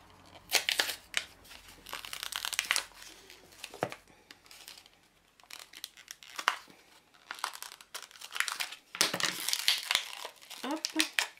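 Plastic packaging around Essence Baby Lips lip balms is handled and torn open close by, with bursts of crisp crinkling and crackling separated by short pauses.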